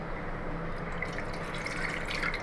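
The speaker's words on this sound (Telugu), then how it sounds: "ముందుగా ఒక బౌన్లో నీళ్ళు పోసి" Water trickles and splashes as it is poured into a bowl in a home kitchen, a soft, steady liquid sound with faint dripping, quiet and without talk.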